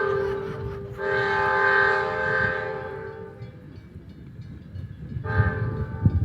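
A train passes near a station, sounding a long, loud horn blast that holds for a couple of seconds and then fades, with a second short horn burst near the end over steady rumbling rail noise.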